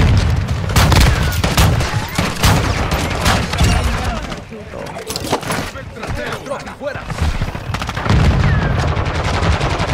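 Rapid automatic gunfire and shotgun blasts crackle almost continuously in a Call of Duty: Modern Warfare match, with loud bursts near and farther away and a short lull midway, while a voice talks over the action.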